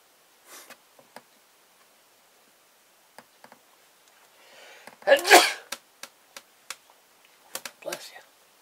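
A person sneezes once, loud and close, among quiet rustles and small ticking handling noises in a room.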